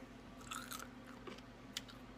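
Close, quiet crunching of crisp pork rinds being chewed, with a few sharper crackles over a faint background hum.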